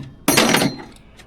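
A hammer strikes a part on a 1982 Polaris Cutlass SS snowmobile during a teardown. It is a single sharp, close impact with a short ringing tail, followed by quiet.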